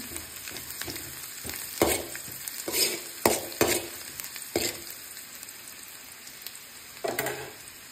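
Garlic sizzling in melted butter and oil in a pan, a steady frying hiss broken by several sharp clinks and scrapes of a utensil stirring against the pan, with no talk.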